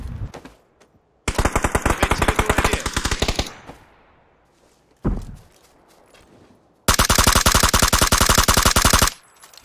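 Two long bursts of rapid automatic gunfire in a video game, loud and close, separated by a short quieter stretch with a single sharp shot between them.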